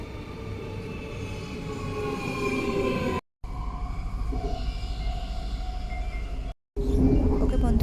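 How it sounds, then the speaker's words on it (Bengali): A train pulls into a station with a loud, sustained rumble and rolling wheel noise, broken by two brief dropouts. "ওই যে ট্রেন আসছে এখন।"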